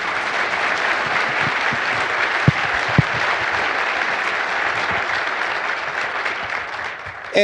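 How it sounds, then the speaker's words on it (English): A large audience at a city's State of the City address applauds in a sustained, even wash of clapping, with a couple of louder thumps near the start and a slight fade at the end. "let's give them a round of applause"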